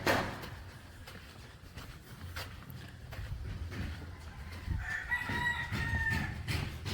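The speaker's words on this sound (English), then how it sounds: "Oh, chook." Chickens cluck and a rooster crows against a noisy outdoor background on a lane road in Togo, goats nearby, with the calls growing more prominent toward the end.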